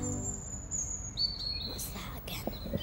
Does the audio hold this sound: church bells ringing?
no